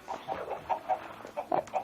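Chickens cluck in a quick, uneven series of short calls in a video game, fairly close and moderately loud, with no talking.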